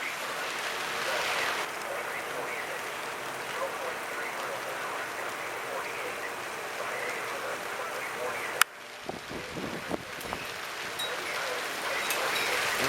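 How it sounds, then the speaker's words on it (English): Wind and rain batter the area during a January windstorm in Tacoma, Washington, a steady loud rushing hiss that briefly cuts out partway through, then returns with low buffeting rumbles of gusts. "I'm still getting blasted by the wind and rain."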